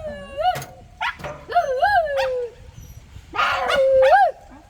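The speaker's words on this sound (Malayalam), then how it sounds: "രണ്ട് നായ്ക്കളെ" Two dogs yelp and bark in short bursts in the rain, with whining and howl-like cries, close and loud.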